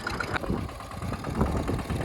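A farm tractor engine runs steadily in a low, throbbing idle with faint knocking pulses, close by and continuous for a couple of seconds, with no one speaking.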